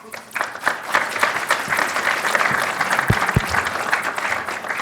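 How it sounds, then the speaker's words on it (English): A conference audience at a supply chain expo claps steadily in sustained applause, full and fairly close, with a few louder individual claps standing out. "Round of applause, please"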